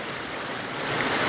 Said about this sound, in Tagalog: hagusgus ng tubig